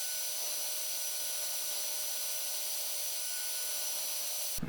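A hair dryer blows over a freshly airbrushed fishing lure, a loud steady whoosh that runs almost unchanged for the whole stretch and stops abruptly at the very end.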